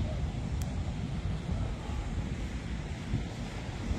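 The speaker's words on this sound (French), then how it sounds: "je m'excuse par avance pour le vent" Wind buffets the microphone at the seaside in Cadiz, a constant heavy low rumble with surf washing underneath, loud and close throughout with no pauses.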